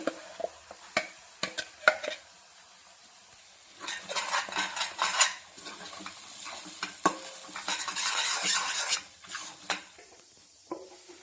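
A ground spice paste stirred into frying ivy gourd masala curry: sharp spoon scrapes and taps against the pan in bursts, with soft sizzling bursts swelling in the middle, close and fairly quiet, no voices.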